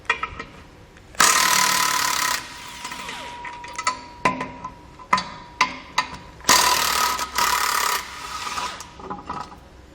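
Tools working on steel tow hook bolts, 15mm, on the frame of a 2019 Ford: bursts of ratcheting and rasping wrench action with short clicks and knocks between, close and fairly loud, no talking.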